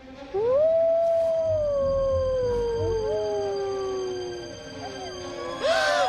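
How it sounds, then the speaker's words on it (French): Several wolves howl in long, sliding, overlapping tones in an animated cartoon scene, rising and falling for several seconds before a brief noisy burst near the end. "Les loups!"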